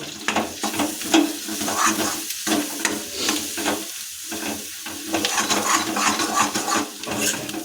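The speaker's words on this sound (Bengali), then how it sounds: "এখন আমরা আরও মিনিট 5 পর্বে লো ফ্লেমে এইভাবে কষাতে থাকবো।" Egg tadka being stirred and sautéed in a pan over a low flame, with steady frying sizzle and repeated scraping strokes of a spoon against the pan, up close and continuous.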